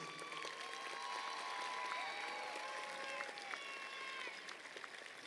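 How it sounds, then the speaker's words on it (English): A crowd applauds the graduating seniors at a high school commencement ceremony, with steady clapping mixed with cheering voices and calls. "let's give them one more round of applause to show our appreciation for their hard work throughout the years"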